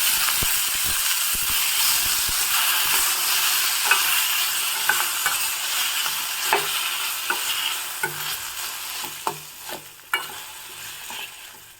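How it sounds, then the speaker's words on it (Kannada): Chopped tomatoes fry in a pan, giving a steady, moderate sizzle with scattered scraping and tapping from a stirring spoon, heard alone without speech. "ನೋಡಿ ಎಲ್ಲ ಚೆನ್ನಾಗಿ ಫ್ರೈ ಆಗಿದೆ ಈಗ ಇದಕ್ಕೆ ಹೆಚ್ಚಿರೋ ಎರಡು ಟೊಮೊಟೊ ಹಾಕ್ತಾ ಇದ್ದೀನಿ"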